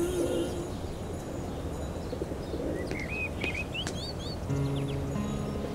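Pigeons coo in low, soft repeated calls toward the end, while other birds chirp and whistle higher up over a steady outdoor background hiss.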